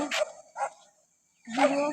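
A dog barks outdoors near Suruli Falls, two or three short yapping barks close by, with a brief gap before a longer bark-like burst.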